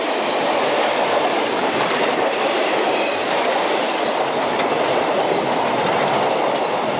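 A Delaware & Hudson freight train with a caboose rolls past nearby as a loud, steady rumble with clickety-clack wheel noise that fills the whole stretch.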